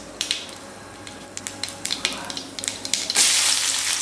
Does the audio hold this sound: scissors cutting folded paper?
no